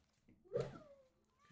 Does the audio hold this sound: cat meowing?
yes